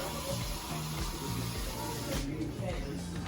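Water pours steadily into a pot for chicken soup, a continuous splashing hiss that runs the whole time at moderate volume.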